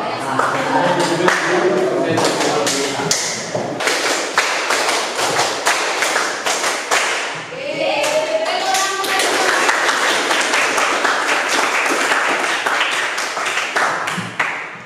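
A class of high school students clap in rhythm to a teacher's call-and-response clapping game, bursts of sharp claps running almost continuously with brief pauses, loud and close, with voices over them.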